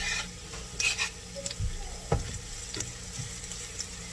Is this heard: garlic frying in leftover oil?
yes